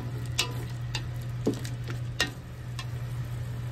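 A pan of pancit gently bubbling and simmering, with a few soft clicks and pops over a steady low hum.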